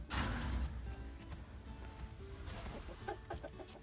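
Chickens in a backyard coop cluck softly at night after cleaning, scattered low calls from several birds under a steady background hum, with a slightly louder burst near the end.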